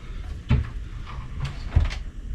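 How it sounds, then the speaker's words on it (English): Clothes hangers sway and knock together inside a cabin wardrobe on the MSC Virtuosa cruise ship, giving two distinct wooden-sounding knocks about a second apart over a low steady hum. "it will be the hangers that are swaying and knocking into each other"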